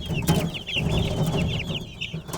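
Australorp chicks at a poultry market give a dense, continuous run of high chirps and peeps, with lower clucking from nearby fowl underneath.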